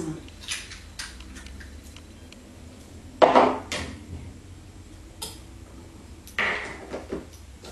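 A spoon stirs a homemade natural hair treatment in a bowl, with a few sharp clinks and scrapes against the bowl spaced apart over quiet room noise.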